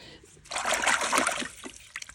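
Fresh greenhouse radishes are rinsed under running water, a brief splashing trickle lasting about a second amid quiet background sounds.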